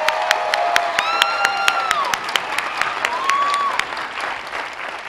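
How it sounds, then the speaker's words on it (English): Sustained applause from a commencement crowd at a university College of the Arts ceremony, dense clapping with sharp individual claps and scattered whoops, while a brass choir plays tones over it. "Let's applaud."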